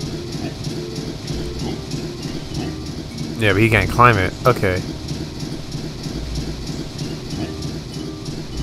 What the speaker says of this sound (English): Levitate Chuffy the Train.